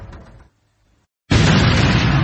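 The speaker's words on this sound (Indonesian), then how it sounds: "Dari kejauhan, Feng Yuan mendengar ledakan-ledakan besar di sana" Big battle explosions as an audiobook sound effect: a faint rumble fades to near silence, then a sudden loud, sustained booming roar erupts and rolls on, close and dense.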